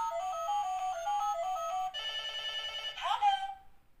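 A toy phone plays a bright electronic ringing melody of repeating beeps, shifting to a denser chiming pattern partway through, then ending in a quick descending zap as it fades out.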